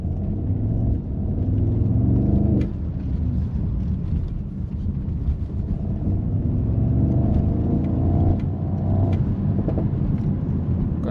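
Mercedes-AMG SL 63 S E Performance hybrid V8 roadster exhaust rumbling steadily during a test drive, loud and close with engine revs rising around the middle and near the end, no talking.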